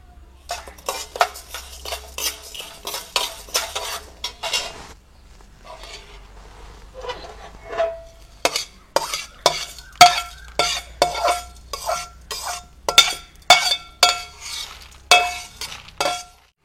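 Roasted chana dal and garlic tipped out of a pan, a spoon clanking and scraping the metal in a quick run of sharp clinks, a short pause midway, then more rapid scraping and knocks, fairly close.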